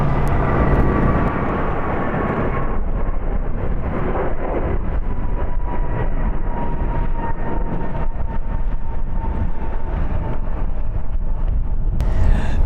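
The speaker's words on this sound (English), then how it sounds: "Departing here is American Airlines Flight 31 going to Honolulu. It's an Airbus A321neo," American Airlines Airbus A321neo departing LAX produces a loud, continuous jet roar with a steady tonal whine running through it, close and unbroken for the whole stretch.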